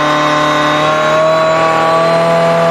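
Audi RS Q e-tron Dakar rally car, a range-extender electric drivetrain, holding a steady constant-rev drone with stable tonal whine, loud and close throughout with no rise or fall in pitch.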